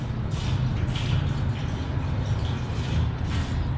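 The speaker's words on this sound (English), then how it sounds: "we just pour it straight into our fuel tank there" Diesel winterizer and anti-gel treatment poured from a 100-gallon treatment bottle straight into a diesel truck's fuel tank, a close, steady glugging liquid stream with low rumble underneath.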